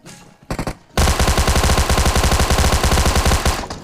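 Automatic gunfire in a mobile battle royale shooter, a couple of short bursts, then a loud, steady rapid-fire stream of shots for about three seconds, close and alone with no talk.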